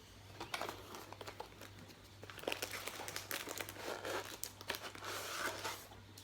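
A package being opened for an unboxing, close crinkling and crumpling of wrapping with tearing and rustling that continue steadily throughout, faint and intimate.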